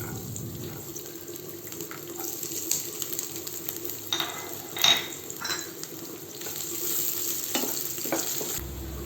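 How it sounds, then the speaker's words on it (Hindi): Finely chopped ginger and garlic sizzle and crackle in hot oil in a kadhai while making chilli chicken, with scattered scraping and stirring sounds from the pan throughout. "बारीक कटा हुआ अदरक लहसुन हम ऐड करेंगे इसमें।"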